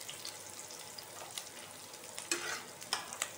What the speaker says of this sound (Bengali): অল্প একটু পেঁয়াজ আমি এই গোটা মশলার সাথে ফ্রাই করে নিচ্ছি